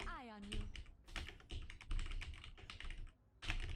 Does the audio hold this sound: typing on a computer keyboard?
yes